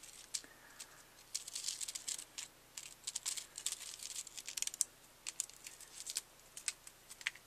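Backing layer being peeled off foam tape for a papercraft shaker card, faint close crackly ticks and small tearing rustles in irregular bursts, quiet and without talk.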